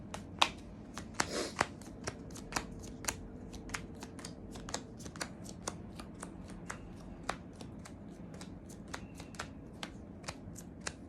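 Tarot cards are shuffled in a quick run of sharp, crisp riffles and flicks close by. A soft hiss runs underneath and no one speaks.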